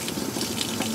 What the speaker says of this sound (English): right now I'm pumping about 20 PSI in the air and right directly into the oil cooler